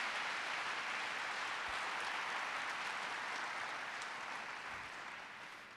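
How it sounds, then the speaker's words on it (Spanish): Sustained applause from a church congregation fills the space loud and steady, a dense wash of many hands that slowly fades toward the end. "Vamos, denle un aplauso a Dios, denle un aplauso a Jesús"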